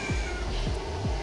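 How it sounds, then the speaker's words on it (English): A female cat in heat gives three or four drawn-out, wailing meows in steady succession, close and loud, with no voices over them. "If you've not seen a female cat on heat, it is, it's a show."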